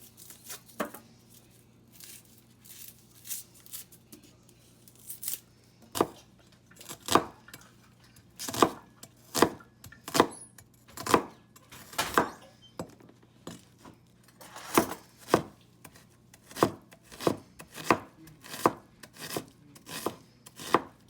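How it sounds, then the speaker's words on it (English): A knife dices an onion on a cutting board for sloppy joes: sharp, steady chopping taps, sparse at first and then in quick regular bursts, close and crisp against a quiet kitchen background. "I'm dicing the onion."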